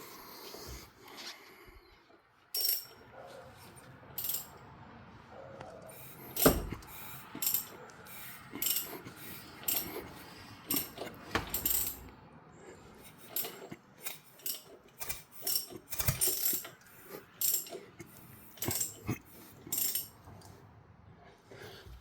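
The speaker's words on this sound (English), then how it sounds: "So I'm going to go rotate the crank." Ratchet wrench turning the crankshaft of a Honda CR-V engine during a valve lash adjustment, a series of quiet, irregular clicking bursts with pauses between them, close up and with no talk.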